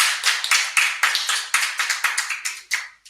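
A small group in a panel discussion room claps in short uneven bursts, a dozen or so distinct close claps with brief gaps, fading out near the end; no talk over it.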